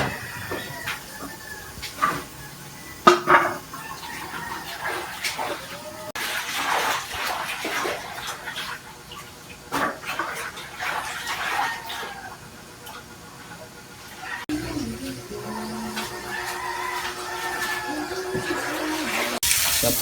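Freshly harvested ginger and turmeric are washed outdoors under running water, with continuous splashing and gushing that shifts in intensity, occasional knocks and handling noises, and no clear talk.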